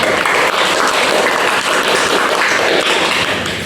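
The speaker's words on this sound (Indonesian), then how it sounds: "Beri aplaus dulu." A classroom audience applauds steadily and densely for a few seconds after students share their opinions on group work, with the clapping sustained and close throughout.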